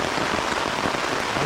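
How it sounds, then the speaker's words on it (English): Steady rain drums on a camping tarp overhead at night, a dense, even hiss of countless drops close by, continuous and loud with no other sounds. "Rain on the tarp woke me up."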